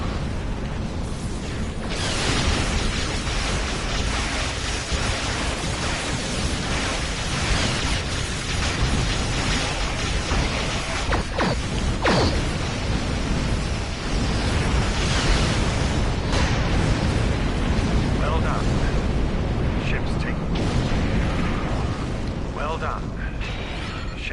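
Torpedo explosions in the space combat game Star Trek Online, heavy rumbling booms and bursts layered over a dense, continuous roar of battle effects and music, with occasional sharp impacts throughout.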